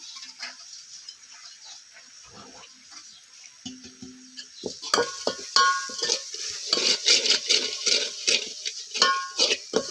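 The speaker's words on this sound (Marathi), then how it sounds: "चांगला असा मसाला आपल्याला परतून घ्यायचा आहे तेल सुटत तोपर्यंत" Homemade onion-garlic masala sautéed in oil, a spoon scraping the pan in quick repeated strokes over a soft sizzle, getting louder partway through, with no voices.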